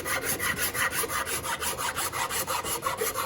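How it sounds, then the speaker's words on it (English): A Shinto rasp's fine side files a wooden electric guitar body into an armrest contour: steady, rapid back-and-forth rasping strokes, close and fairly loud, in an even rhythm with no voices. "you saw me using the fine side of the Shinto rasp"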